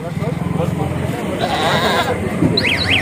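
A goat bleats in a drawn-out, wavering cry close by at a livestock market, with people talking over and around it while haggling over prices.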